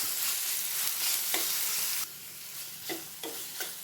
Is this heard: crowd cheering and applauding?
no